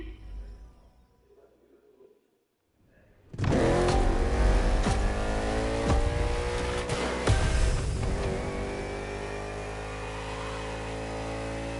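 A NASCAR race car engine in the video game The Crew Motorfest starts up abruptly after a quiet moment and holds a loud, steady revving roar with rising pitch sweeps.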